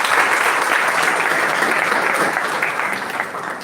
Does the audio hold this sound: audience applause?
yes